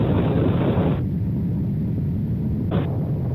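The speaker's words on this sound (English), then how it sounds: "Riding a motorbike at 60 or 70 is difficult." A motorbike roars along at about 120 on a French road, its loud engine and rushing wind filling the sound continuously, with a brief higher burst near the end.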